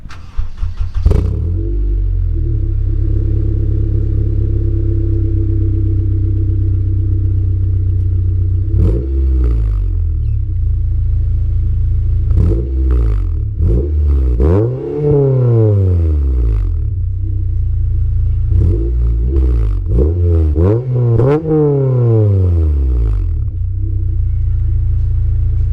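A Nissan 180SX with an aftermarket total exhaust idles with a deep steady rumble, then gets blipped repeatedly, sharp revs rising and falling in several close bursts near the car without talking.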